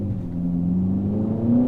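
A car with a paddle-shift automatic gearbox, run in manual mode, accelerates hard; the engine drone climbs steadily in pitch, loud and continuous from start to finish.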